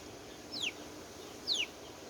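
A bird calls twice in the early morning outdoors, each a short, thin, high downward-sweeping note about a second apart, faint and distant over a low background hiss.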